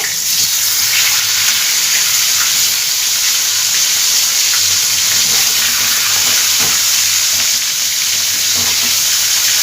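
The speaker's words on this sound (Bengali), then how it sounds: "এরকমভাবেই মাছগুলো লাল লাল করে ভেজে নিতে হবে" Pieces of rohu carp fry in a pan, with a steady, loud hiss and sizzle of hot oil running throughout, broken now and then by faint crackles and spatters.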